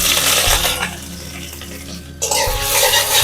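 Crushed garlic and ginger hit hot oil in a pan, a loud close sizzle that dips briefly, then surges back with a bright hissing burst and faint metallic clinks.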